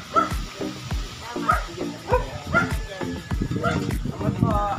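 Several dogs bark and yip in quick, repeated bursts, some close and loud, with whimpering mixed in and people talking underneath.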